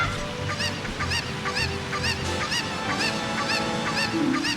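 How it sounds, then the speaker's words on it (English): Repeated squawking honks from a cucco chicken in Ocarina of Time ring out steadily over a busy game backdrop with music and ambient noise, close and fairly loud. "now we can let the chicken run off to its doom"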